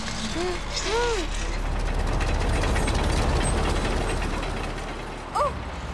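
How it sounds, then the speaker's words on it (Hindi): Levers turned on a cartoon mechanism, a continuous grinding, ratcheting clank of gears and creaking metal under background music, with short whistling tones at the start and near the end. "सब एक एक लीवर संभालो। सलेम तुम दाएं मोड़ोगे और उबैद बाएं मोड़ेगा।"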